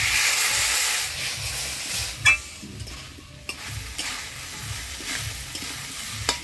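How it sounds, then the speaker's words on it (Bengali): Potatoes being stirred and fried with ground spice paste of turmeric, salt and ginger for a tilapia fish curry, a steady close sizzle and hiss with repeated scraping stir sounds and a few sharp clacks of the spoon against the pan. "মশলা দিয়ে আলুটা কষা নিলাম"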